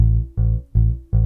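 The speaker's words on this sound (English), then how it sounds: "If there were straight 8th notes, they'd sound like this." Walking bass in a blues setting plays straight eighth notes, a few even, evenly spaced deep plucked notes, close and alone.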